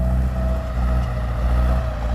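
Model 6610 farm tractor engine running steadily in second gear, a loud, continuous low rumble with a droning hum close by and no voices.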